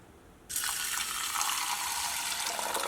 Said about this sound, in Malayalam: ഇതിലേക്ക് 1 ഗ്ലാസ് വെള്ളം ചേർക്കുക.